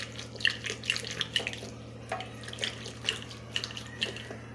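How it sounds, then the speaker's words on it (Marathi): Water trickles and drips into a pan of gargata bhaji, a wet-chickpea-leaf vegetable dish thickened with coarse crushed peanuts. Soft, irregular splashes and droplets sound close by over a steady low hum, with no talking. "तुम्हाला किती पातळ घट्ट पाहिजे त्या वेळेला पाणी घाला."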